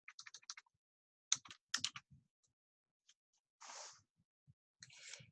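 Quick bursts of typing on a computer keyboard, crisp clustered key clicks in short runs separated by pauses, with a couple of softer, longer keystroke sounds, close and fairly quiet.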